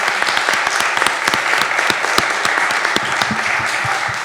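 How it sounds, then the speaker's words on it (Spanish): Steady, dense audience applause at a book launch, many hands clapping together at an even level throughout, with no talking over it. "Les pido un aplauso para Feliciano."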